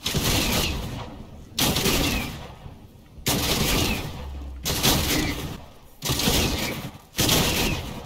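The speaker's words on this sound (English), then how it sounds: "Somebody shooting like crazy." Gunfire in the video game Fortnite, heard as several sustained bursts of rapid shooting separated by short gaps, fairly loud and close.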